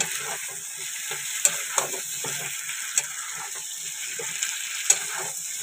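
Tomato and capsicum fry in a pan with a constant bright sizzle, broken by several sharp spatula taps and scrapes from stirring, close and clear without talk.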